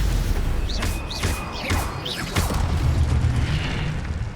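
A Stupefy spell cast in the Hogwarts Legacy game, a series of booming magical impacts with whooshing rising tones, several hits in quick succession over a low rumble.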